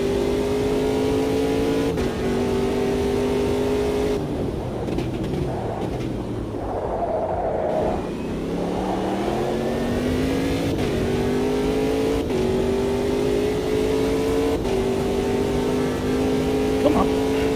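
A racing car engine in a sim racing game, held on throttle with a loud, continuous tone that climbs through the gears, dips and rises again. It plays close and steady, with brief shift breaks, and no voice can be heard.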